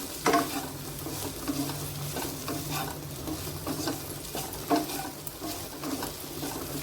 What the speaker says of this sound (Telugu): జస్ట్ ఊరికే కలర్ చేంజ్ అయ్యే వరకు ఫ్రై చేసుకోండి.